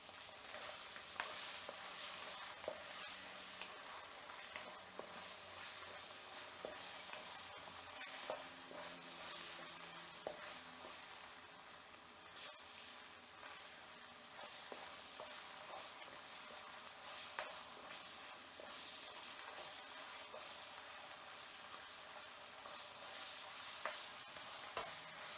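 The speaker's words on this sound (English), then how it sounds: "put these battered fish in here and then just quickly fry them" Steady, dense sizzling of battered fish frying in hot oil, continuous and close, with faint crackles and pops throughout.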